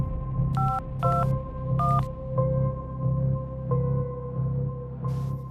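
A telephone keypad is dialed, with several sharp tone beeps in an irregular sequence over a low rhythmic background hum, the tones close and clear with no voices.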